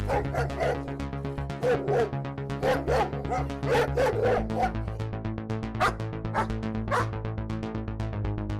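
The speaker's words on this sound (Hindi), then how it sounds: "ये कुत्ते इतना क्यों भौंक रहे हैं?" Several dogs bark and yip over and over in loud, overlapping bursts near a tethered cow in a Hindi family drama setting, with a steady musical drone underneath.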